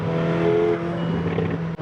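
A McLaren 750S engine rumbles loudly nearby with a steady low drone and rough burbling crackle from the exhaust, ending with a brief sharp pop.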